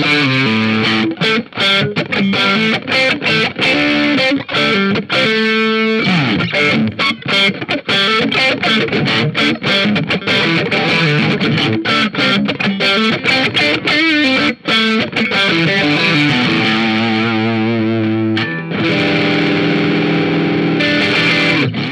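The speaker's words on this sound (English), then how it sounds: "Now we'll try for some middle pickup tones." Fender Mod Shop Telecaster electric guitar on its middle pickup with distortion, strummed chords and choppy riffs alternating with sustained notes, loud and continuous with no voices.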